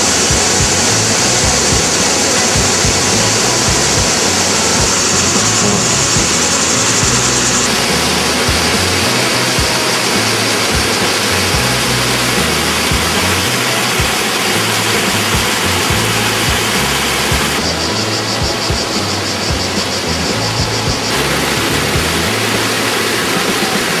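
The Skradinski buk waterfall in Krka National Park roars as a loud, continuous broadband rush of falling water, steady and close throughout, with no voices.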